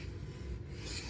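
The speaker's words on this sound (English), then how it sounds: "On the stone, this MagnaCut feels just fine." A knife blade of MagnaCut steel is drawn across a sharpening stone, one soft, close, continuous gritty rasp lasting about a second with no talking.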